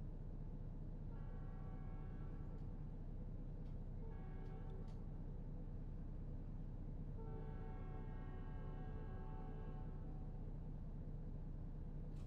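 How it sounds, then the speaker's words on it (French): A long American freight train in a trucking simulator game, heard from a distance: a low continuous rumble under repeated horn blasts, three separate soundings spread across the stretch, fairly faint and with no talking. "Les longs trains américains."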